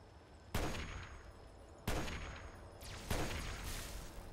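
Gunfire in the video game Fallout 3, three sharp, fairly distant shots at uneven intervals, each followed by a short echoing decay, with a faint extra crack near the last one.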